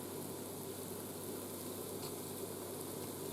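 Onions sizzle inside a Go Wise 8-quart pressure cooker, a steady, quiet hiss of frying that holds evenly for a few seconds with no voices.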